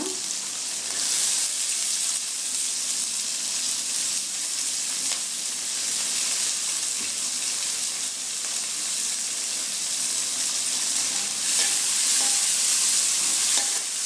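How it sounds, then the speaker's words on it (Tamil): Onions and chillies sauté until golden in a pan for Tamil vadai kulambu, with a steady, close sizzle and hiss, broken by occasional stirring scrapes. "நல்லா பொன்னிறமாக ஆகிற வரைக்கும் நல்லா வதக்கி விடுங்க."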